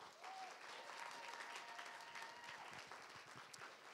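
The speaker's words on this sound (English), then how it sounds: "That's certainly worthy of a big round of applause." A university graduation audience claps steadily throughout, a dense, even wash of many hands at moderate distance, faint, with a brief whistle-like tone early on.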